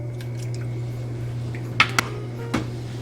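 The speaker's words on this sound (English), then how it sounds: "So now I'm gonna add it into my milk." Thick cooked rice mixture for Mexican rice pudding is spooned into a pot of milk, making a few wet plops and squishy splats in the last half of the clip over a low steady stove hum.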